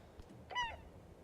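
In the video game Esoteric Ebb, a seagull lets out a single short, harsh squawk, quiet and alone, as it takes off.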